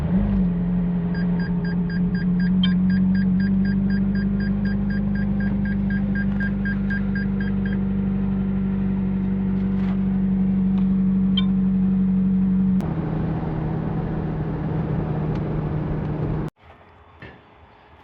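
Steady engine drone from inside a McLaren 570GT crawling through rush hour traffic, a low constant hum with a faint repeating chime early on, ending in an abrupt cut to quieter cabin noise.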